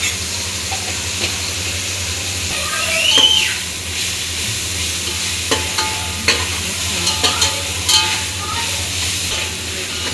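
Ginger garlic paste fries and is stirred in a pan while palak biryani is made in a home kitchen, giving a steady close sizzle with scraping spoon strokes and clicks throughout, a brief hissing whistle partway.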